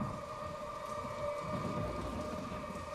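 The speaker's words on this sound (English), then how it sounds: "Not the rain again!" Steady heavy rain falling without a break, a dense even wash of noise that stays loud for the whole stretch, with no voices over it.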